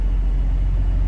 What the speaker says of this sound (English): you just couldn't hear me over the road noise and the truck noise